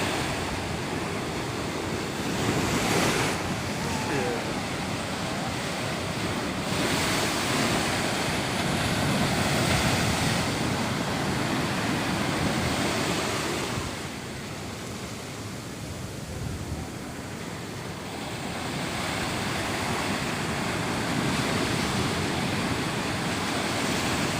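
Sea waves at Kozhikode beach roar steadily as a broad, loud wash of surf, with wind hiss on the microphone and a brief dip in the middle before the breaking swells return.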